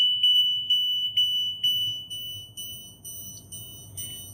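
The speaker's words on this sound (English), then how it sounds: "turned the key on, and there's our loud buzzer" A Freightliner motorhome chassis jacks-down warning buzzer sounds with the key on, a shrill electronic beep repeating in a quick regular pulse, moderately loud and alone, with faint low rumble beneath.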